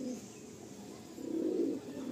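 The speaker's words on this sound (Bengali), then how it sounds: "দেখুন দুটো আবলুক পায়রা।" Madrasi pigeons, two males of the long-bodied fighter type, coo softly and low at a loft, a faint murmur that swells briefly in the middle and then fades, with no talk.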